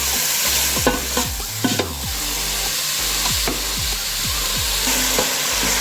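A spoon stirs pasta sauce seasoned with thyme, black pepper and salt in a sizzling pan, producing a steady run of close scraping strokes over a constant frying hiss.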